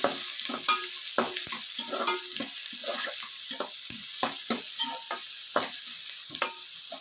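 Onions fry in a pan with a steady sizzle, broken by frequent sharp scraping strokes of a spatula stirring in quick irregular rhythm, close and moderately loud with no voices.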